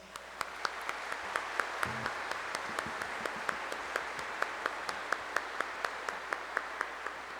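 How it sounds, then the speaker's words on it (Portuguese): Applause from a church congregation during an ordination ceremony for acolytes, lectors and deacons, a steady dense clapping sustained throughout at moderate level, with no talk over it. "saudamos o gesto de entrega com uma salva de palmas"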